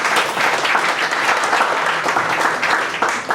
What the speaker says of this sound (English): Let's give our Chief a round of applause.